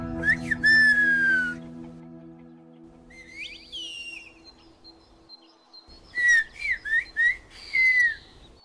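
Piercing whistled speech of the Turkish mountain village of Kuşköy, sharp gliding whistle phrases in bursts with pauses between, heard alone from moderate distance against a faint background hum.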